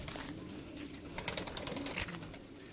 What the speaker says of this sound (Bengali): এই দুটো ডাবলা পায়রা ডিমে অলরেডি বসে আছে